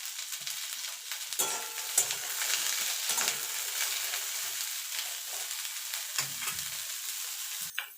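Cauliflower pieces frying in hot oil with a pinch of salt, a continuous crackling sizzle with sharper bursts of spitting and occasional stirring sounds, close up and with no talking.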